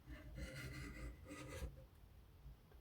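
Scraping old thermal paste off the board of an Asus Zephyrus G14 laptop produces a close, steady rasping rub in short strokes for about a second and a half, then stops.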